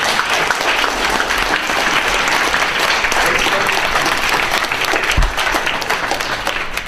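A conference audience gives a round of applause as members of an ethnic council stand, thick, continuous clapping at a steady loud level throughout, with faint crowd murmur underneath.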